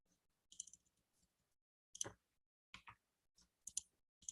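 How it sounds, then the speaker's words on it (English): A computer keyboard being typed on, sparse faint clicks in a few small clusters with quiet gaps between, close and alone. "I typed in with my keyboard."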